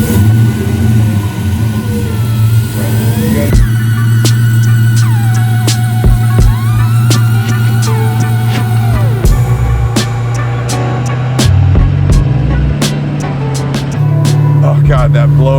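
A 1000 HP supercharged LS9 V8 in a Chevy Colorado ZR1 revs repeatedly, the blower whining as the engine rises and falls over a steady loud idle, with people talking over it.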